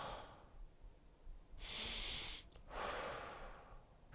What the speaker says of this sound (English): You can also emphasize the inhale, so you're sucking in a full belly breath.